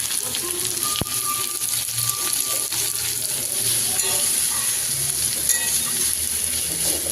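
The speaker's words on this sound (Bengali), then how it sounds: "পেঁয়াজটাকে লাল লাল করে ভেজে নেব।" Garlic and chopped onion frying in oil with five-spice (panch phoron) for a patol and jackfruit-seed curry, a steady close sizzle running throughout with a faint clink partway, no talking.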